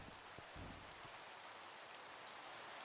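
Rain falls steadily in the video game Minecraft, a soft, even hiss of raindrops that holds unchanged throughout, quiet and continuous with no voices.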